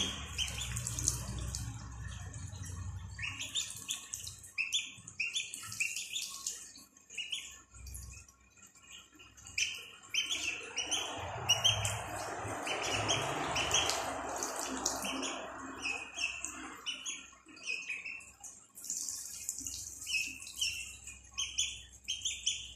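Small ducklings cheep in rapid high peeps while drinking, with running tap water splashing into a sink in the middle stretch, the chirps continuing throughout at close range.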